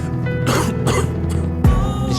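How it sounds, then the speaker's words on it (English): Several harsh, raspy coughs in quick succession, close and loud, ending with a throaty rasp. "starts coughing"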